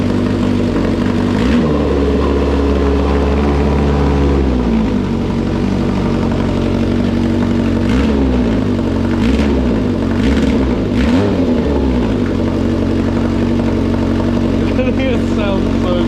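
A Kawasaki KZ650 motorcycle with a Delkevic exhaust runs loud and close from a cold start, a steady throbbing idle with a few gentle rises and dips in pitch and some popping, and a person talks over it.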